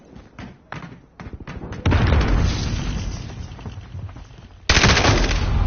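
Video-game combat with rapid automatic gunfire and grenade blasts: bursts of shots up front, then a sustained loud barrage with booming thuds and a sharp fresh explosion near the end.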